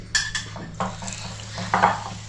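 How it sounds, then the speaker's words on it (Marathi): Onion and potato bhaji fritters are set onto a steel thali plate with a few close clinks and light scrapes of utensil against metal, spaced out over a steady low kitchen hum. "आता इथे मी भजी टाकते."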